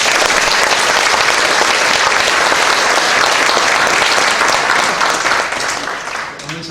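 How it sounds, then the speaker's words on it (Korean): A church congregation claps loudly and steadily at a pastor's installation service, dense uninterrupted applause filling the room before fading slightly at the end. "치리 목사님에게도 우리 박수 한 번만 쳐주세요."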